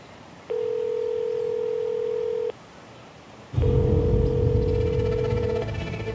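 An outgoing phone call rings out as two long, steady, even ringback tones separated by a short pause, clear and close over background noise that grows louder during the second tone.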